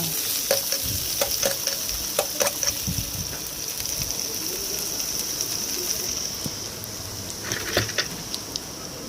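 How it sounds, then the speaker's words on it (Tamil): Onions sizzle steadily in a hot pan for mutton chukka while a utensil scrapes and clicks repeatedly as they are stirred, close and continuous. "வெங்காயத்தை நல்லா இந்த மாதிரி கிண்டி விட்டுக்கோங்க"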